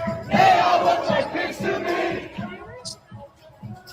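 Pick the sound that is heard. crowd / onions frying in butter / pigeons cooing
crowd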